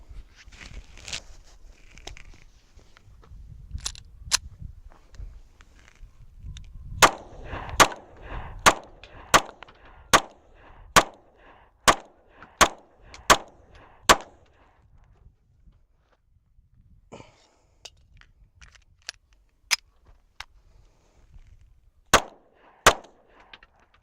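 A SCCY CPX-2 pistol fires a string of about twenty sharp, loud shots, one fast regular run followed by a few scattered later shots, with light handling noise between them.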